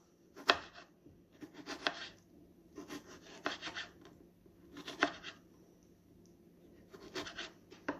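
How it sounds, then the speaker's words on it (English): A knife chops through a tomato on a cutting board, giving five or six short crisp bursts of cuts in uneven clusters, close and fairly quiet, with no one talking. "And I'm just going to cut it up."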